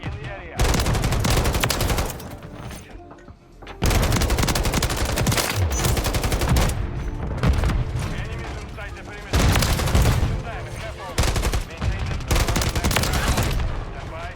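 SVA 545 rifle fire in the video game Modern Warfare 3, with long loud automatic bursts broken by short pauses and mixed with game explosions and effects across the scene.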